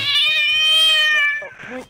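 A loud, drawn-out cat meow from the video game Rust, close and piercing, rising then falling before a short second mew trails off.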